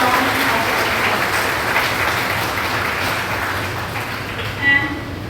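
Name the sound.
applause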